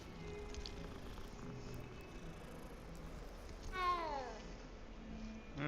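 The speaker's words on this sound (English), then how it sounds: "Good kitty." A cat in Hogwarts Legacy purrs in a low, soft, continuous rumble beneath quiet game ambience, then lets out a short rising meow near the end.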